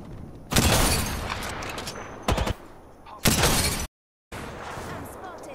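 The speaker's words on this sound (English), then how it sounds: "I'm spotted. Taking fire." Gunfire in the shooter game Apex Legends, with loud bursts of rapid shots and impacts cutting in and out against quieter background game noise.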